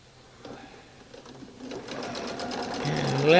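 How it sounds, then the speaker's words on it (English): A sewing machine stitches a diagonal seam through quilt fabric. It starts faintly and builds into a steady, close, rapid mechanical whir over the last couple of seconds, with a voice briefly audible early on. "let me stitch right down that diagonal"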